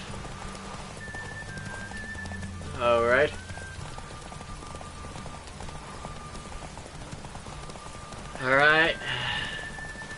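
A horse whinnies twice in the video game The Witcher 3, a shrill, wavering neigh each time, over steady hoof clip-clops, with someone speaking briefly.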